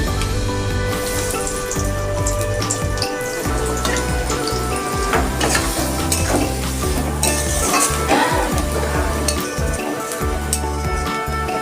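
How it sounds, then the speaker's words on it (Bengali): Chopped onion frying in hot oil for ghugni, a loud close sizzle with repeated stirring and scraping of a spatula against the pan, continuous and without talk. "আমি এই তেলের মধ্যে আর একটু তেল দিয়ে দিচ্ছি দিচ্ছি পেঁয়াজ কুচি"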